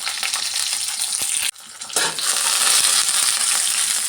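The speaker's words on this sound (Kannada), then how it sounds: "ಗೋಡಂಬಿ, ಕಡಲೆಬೇಳೆ, ಒಣಮೆಣಸಿನ್ಕಾಯಿ, ಸ್ವಲ್ಪ ಕರಿಬೇವಿನ ಸೊಪ್ಪು ಹಾಕ್ಕೊಂಡು ಸ್ವಲ್ಪ ಚೆನ್ನಾಗಿ ನಾವು ಫ್ರೈ ಮಾಡ್ಕೊಬೇಕು" Cashews, chana dal, dry chillies and curry leaves frying in a tempering, a loud, dense sizzle that cuts out for a moment and then returns strong and steady.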